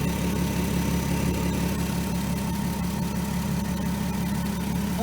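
A 2003 Volkswagen Eurovan engine idling just after start-up, a steady close rumbling hum with a faint ticking rhythm and no talk.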